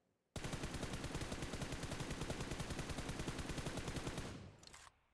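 Rapid automatic rifle fire in PUBG Mobile while aiming through a 4x scope: a dense, steady burst of shots at an even rhythm, loud and close, running for about four seconds before cutting off.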